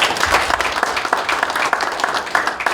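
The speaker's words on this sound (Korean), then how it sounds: "박수 한번 보내주시죠." Congregation applauding during a Korean church worship service, a crowd of hands clapping in an uneven patter at moderate loudness, fairly close, with no voices over it.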